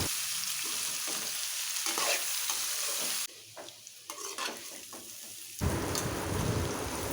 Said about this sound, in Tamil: பாவக்காயை போட்டு நல்லா அந்த எண்ணெயிலேயே ஃப்ரை பண்ணிக்கணும்.